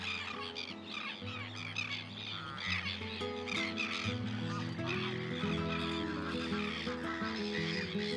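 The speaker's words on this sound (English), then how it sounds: "Some geese." Geese honk in flight, a flock calling repeatedly in overlapping nasal honks at moderate distance, continuous across the whole stretch with no talking.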